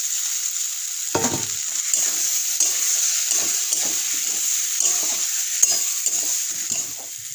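Fried taro and potatoes go into sizzling spiced masala in a pan. A steady hiss runs throughout, broken by repeated scraping stirs and a sharp clatter early on, with no talk.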